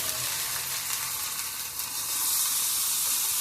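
Tomatoes fry in a hot pan with salt for an onion-greens paneer curry, giving a steady, close, hissing sizzle throughout.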